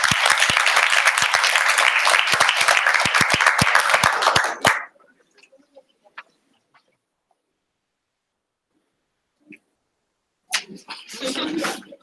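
Audience applause at a Mandela Washington Fellows presentation, a loud dense burst of clapping for about four and a half seconds that stops abruptly, followed by near silence with faint stray sounds and a brief rustle of noise at the end.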